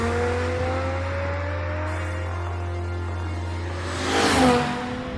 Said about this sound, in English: that engine is truly special. It's really unique, the noise it makes